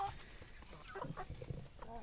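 Chickens in an old backyard coop cluck softly in short, irregular calls after being fed corn, faint and a little distant, with a low murmur of background voices.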